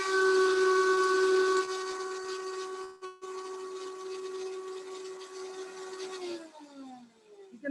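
A Vitamix blender grinds dried chilies with coriander, black pepper and other spices, giving a loud, steady high-pitched motor whine with a brief dip partway through, then winding down as the pitch falls away at the end.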